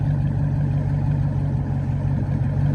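A 2010 Dodge Challenger SRT8 with straight pipes idles on a cold day, a steady low rumbling burble with an even pulse, close and continuous without revs.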